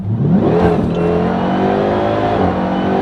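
A 1000-horsepower Dodge Hellcat with a Legmaker intake accelerates hard on a back road, its supercharged engine roaring loudly and continuously with a rising whine, heard close from inside or near the car.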